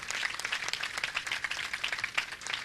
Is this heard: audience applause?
yes